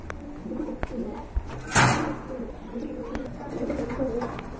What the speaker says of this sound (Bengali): খুবই সুন্দর এক জোড়া রেড চেকার কবুতর রয়েছে